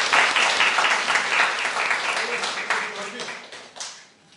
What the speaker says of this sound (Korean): 우리 소장님이신 안신 교수님께 축하 격려의 박수로 응원해 주시면 감사하겠습니다